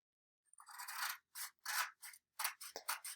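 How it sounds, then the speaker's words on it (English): Scissors cut paper strips for weaving, a series of close crisp snipping and rasping strokes in irregular bursts with short pauses between cuts, quiet with no speech. "now I'm going to take my scissors and I'm going to cut"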